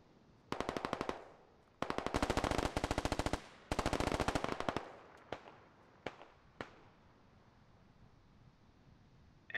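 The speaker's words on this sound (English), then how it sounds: "Heavy machine gun fire east." Heavy machine gun fire rattles in a military shooter game, three long rapid bursts followed by a few scattered single shots that fade into quiet background.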